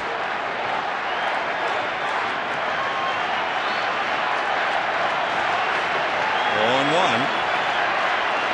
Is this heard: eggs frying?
no